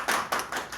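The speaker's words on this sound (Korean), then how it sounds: "우리 환영의 박수를 하겠습니다." Welcoming applause from a church congregation at a Sunday service, a few bursts of hand clapping pulsing in quick waves, fairly close and alone without talk.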